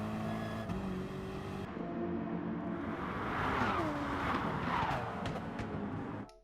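A race car engine from a racing video game at Interlagos drones steadily, rising in pitch as it accelerates, with a brief skid-like hiss midway and a sudden cutoff at the end.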